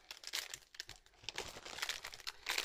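Paper envelopes from an online marketplace order crinkle and rustle as they are handled, a close run of dry crumpling and soft tearing sounds with no talk.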